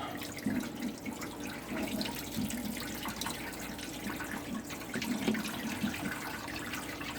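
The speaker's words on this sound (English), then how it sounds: "I'm going to rinse it a little bit. Get some of that excess salt off of it." Salted cabbage being rinsed in a colander under a kitchen tap running filtered water: a steady, close splash of running water that lasts throughout, with no talking.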